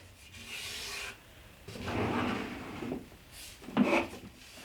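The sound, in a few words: sanding wood while building a dresser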